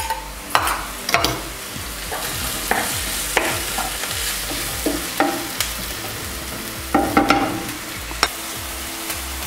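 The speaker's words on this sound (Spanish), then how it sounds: "Sofremos bien la cebolla, una cucharadita de ajo." Chopped onion and garlic sauté in a hot pan, giving a constant sizzle with a regular run of scraping stirs close up and no speech.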